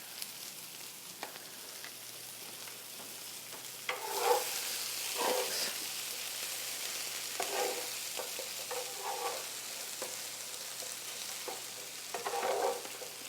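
Food being stirred in a pan while shredded beef is prepared, with soft scraping and stirring sounds rising in a few louder bursts over a steady low background.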